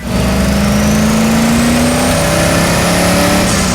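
A loud supercharged Chevrolet Impala engine revs on a chassis dyno and holds at high pitch, its whine climbing steadily, close and continuous.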